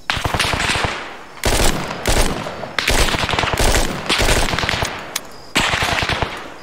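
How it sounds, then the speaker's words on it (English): Automatic rifle fire in the video game Arma 3: loud, sustained bursts of rapid shots in several long volleys separated by brief gaps, close and dominant with no talk. "Here we can pop up and shoot them."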